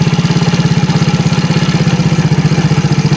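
A Yamaha Mio Soul GT scooter engine idles right after starting, close and loud, with a fast, even putter that holds steady throughout and no talking.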